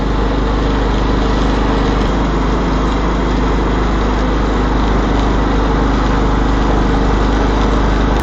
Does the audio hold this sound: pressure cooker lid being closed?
no